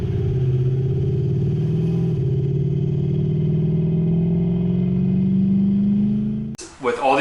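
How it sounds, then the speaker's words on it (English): Car engine with a modified stock intake and intake cam, likely a Lexus GS400, accelerating with a steady rising drone that builds over several seconds and then cuts off abruptly. "you will increase the induction noise, and that's kind of what we're after here."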